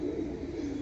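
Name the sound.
pigeons cooing, flying pigeons for sale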